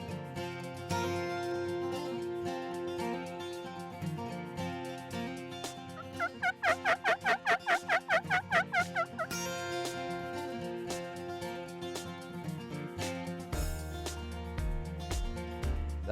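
A wild turkey in western Oregon gobbles once in a rapid, rattling burst during rain, loud and clear over a steady harmonic background.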